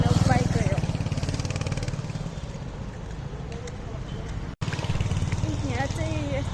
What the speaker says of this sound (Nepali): बाइक गयो